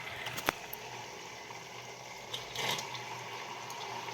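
A makeup brush washing machine spins with water, giving a steady watery whir with a brief splash and a short swell of sloshing near the end, moderately quiet and without speech.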